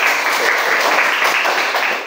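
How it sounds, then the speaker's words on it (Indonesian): Classroom applause during a coding lesson on computational thinking, a brief continuous burst of clapping that tapers slightly at the end. "Oke, tepuk tangan dulu."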